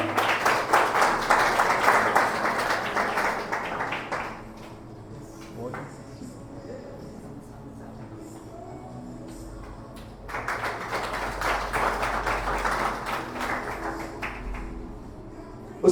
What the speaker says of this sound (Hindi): तालियां नहीं रोकिए, ताले चलते रहिए, ताले नहीं रोकिए।